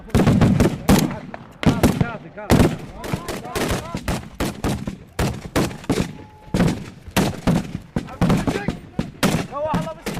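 Heavy dushka machine gun and RPG fire on a front line against ISIS positions, loud repeated bursts of sharp shots and booming blasts spread through the whole stretch, close and harsh, with no clear voices.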